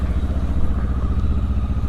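A Benelli TRK 702 X motorcycle setting off from a dealership over paving slabs, its engine a steady, close, throbbing rumble with light mechanical clatter.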